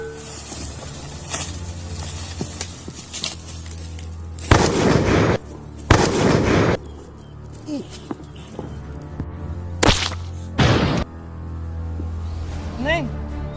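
Gunshots ring out in a comedy skit's dream battle scene, several sharp, loud bursts spaced irregularly over background sound effects, with people talking in between.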